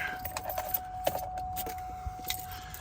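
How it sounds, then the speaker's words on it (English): Car keys for a 2011 Cadillac Escalade jangle in a few light metallic clinks and rattles, scattered bursts close by over a faint steady hum. "Get the keys out of here."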